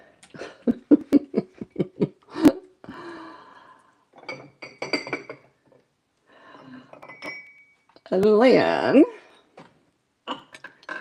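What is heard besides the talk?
Indiana Glass pieces clinking while being moved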